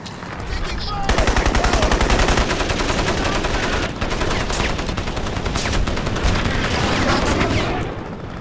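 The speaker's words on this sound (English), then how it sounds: "Oh, and someone manned the machine gun?" Sustained machine gun fire in the Crysis shooter, a loud dense stream of rapid shots running almost continuously through the scene with a brief break partway, overlapping bursts and battlefield clatter layered together.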